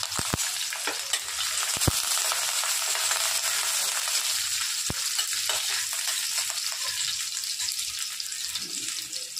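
Curry leaves and chopped onion sizzle loudly in hot oil for rava idli tempering, a steady close hiss throughout with a few sharp crackles and pops and no talking.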